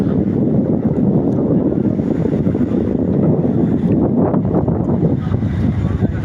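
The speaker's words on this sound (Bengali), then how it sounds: "প্রচুর বাতাস বইছে, মনে হবে ঝড় বচ্ছে" Strong, gusty wind on a Maldives beach buffets the microphone with a constant loud, rumbling roar and no pauses.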